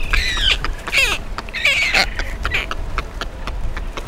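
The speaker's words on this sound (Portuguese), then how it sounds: "Os atobás marrons usam a voz para se comunicar com seus parceiros e filhotes." Brown boobies call on a river island colony, harsh honking and squawking cries repeating in quick bursts over steady background noise, with several birds calling near and close together.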